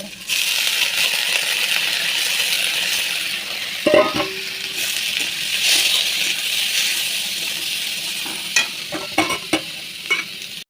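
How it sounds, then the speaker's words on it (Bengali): Washed red lentils are added to onion and garlic frying red in a pan, bringing a constant close sizzle, a sharp metallic clatter of utensil on pan, and later scattered stirring taps. "এখন এর মধ্যে মুসুরি ডালটা ধুয়ে রাখছিলাম আগের থেকে, এটা এখন এড করে দেবো।"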